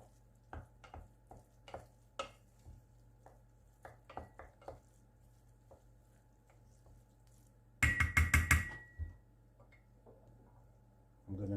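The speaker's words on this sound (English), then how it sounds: "I'm going to add it into with the rice. And just give it a good mix." Rice being stirred with a garlic mixture in a bowl for feta-and-rice-filled butternut, soft intermittent spoon taps and clicks, then a short burst of louder rapid clinking and scraping.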